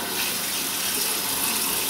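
Water runs steadily from a tap during cleaning, with a rag placed behind to stop splashing, producing a constant close hiss and splatter with no talking.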